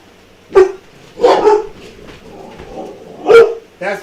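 Several sharp barks from a dog in a home kitchen, coming in short separated bursts of one to three, fairly loud and close, with no talk over them.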